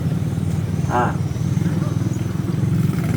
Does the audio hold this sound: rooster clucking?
no